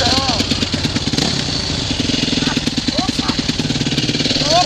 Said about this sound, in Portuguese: Rapaz, que moto ligeira!